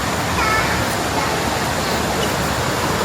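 The Teladas waterfall rushes in a steady, broadband roar of falling water near Maran, continuous and fairly close.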